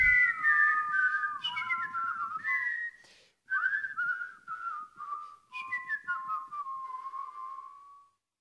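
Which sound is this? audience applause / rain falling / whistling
whistling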